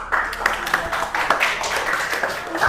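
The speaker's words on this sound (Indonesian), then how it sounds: "tepuk tangan." Classroom applause during a school practical exam, a steady patter of many hands clapping together at close range, with faint voices underneath.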